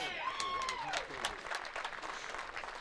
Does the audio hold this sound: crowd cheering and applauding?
yes